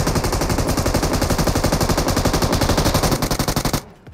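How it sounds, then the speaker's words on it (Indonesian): Rapid automatic gunfire in a battle royale shooter game, loud and continuous bursts of close machine-gun fire that stop abruptly just before the end. "Nembak dari atas bang."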